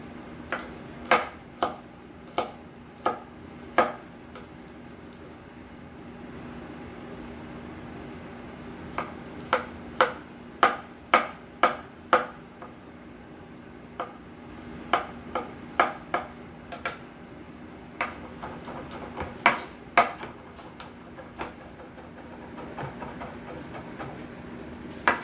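A knife chops garlic on a small cutting board, sharp knocks in irregular quick clusters separated by pauses, close and clear over a low steady hum, with no talking.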